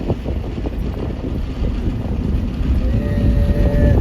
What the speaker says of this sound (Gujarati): ટ્રેન આવી જાય છે